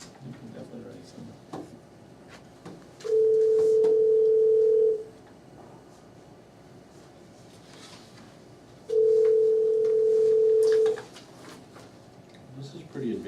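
A telephone dial tone sounds in two steady, loud stretches of about two seconds each while a conference call is being set up at a meeting, with quiet room noise between.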